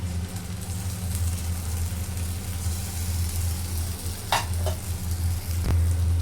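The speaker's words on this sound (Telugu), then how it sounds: "సో ఈ మసాలా అంతా బాగా పచ్చివాసన పోయేంత వరకు బాగా కలుపుకోవాలి" Masala and chili powder frying in a generous amount of oil while being stirred for a Rayalaseema fish curry, giving a steady close sizzle with a low hum beneath and a couple of brief scrapes near the end.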